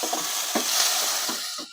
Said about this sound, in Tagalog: Sa ating miso, gigisa mo lang yung sibuyas at saka kamatis.